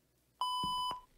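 A single sustained electronic beep from the video game Jawbreaker, a steady bright tone with sharp onset lasting about half a second, loud and close, ending abruptly.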